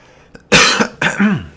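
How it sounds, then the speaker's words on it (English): A streamer coughs close to the microphone, two harsh, forceful bursts in quick succession, the second trailing into a throaty rasp, after a small intake of breath. "Excuse me as I cough up a lung."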